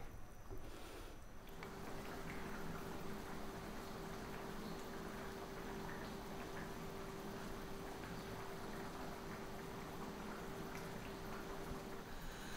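Eggplant and potato curry masala simmers in a pan just below medium heat, giving a steady, soft bubbling hiss that stays constant and close throughout, with no talking.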